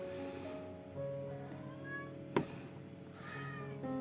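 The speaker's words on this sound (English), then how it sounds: "my cat wants some attention" A house cat meows insistently for attention, several short close meows repeated over a few seconds in a quiet room.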